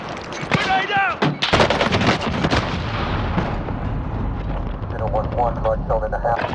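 Video game combat with a grenade explosion and gunfire: a dense spread of shots and a heavy blast, followed by sustained rumbling and crackling battle noise, loud and continuous, with voices mixed in.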